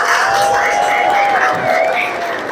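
Audience at an academy welcome ceremony in India cheering and clapping together in a dense, steady wash of crowd noise, with a thin whistle-like tone drifting across it.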